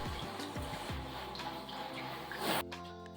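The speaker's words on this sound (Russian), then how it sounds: "Споласкивайте стекло водой." Water runs and splashes as a shower's glass panel is rinsed during household cleaning, a steady wash with brief louder splashing near the end and no voices.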